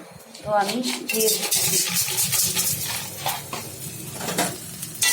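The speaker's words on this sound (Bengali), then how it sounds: "এখন ভাতগুলো দেখেন আমি ভাজবো" Leftover soaked rice (panta bhat), sun-dried, sizzles loudly as it fries in a pan, stirred and scraped continuously, with a person talking briefly at the start.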